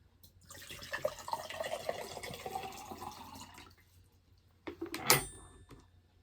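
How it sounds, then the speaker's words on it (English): Bottled water poured into a cup, a close splashing gurgle for about three seconds, then a pause and a short clink with a final splash, no talk. "I'm gonna pour half of it in my cup."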